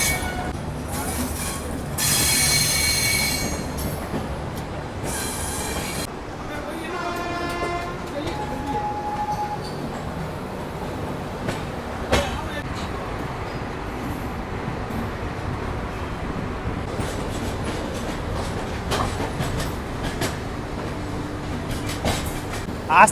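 The Uttar Sampark Kranti Express rolls along the rails with a loud rumble and squealing wheels, a brief horn toot early on, then a steady clatter that continues under a voice speaking.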